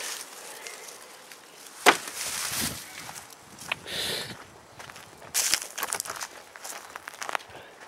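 A woodpecker pecks inside a house, producing a few sharp knocks and short bursts of rapid tapping scattered among quieter rustling, moderately close with faint background sounds.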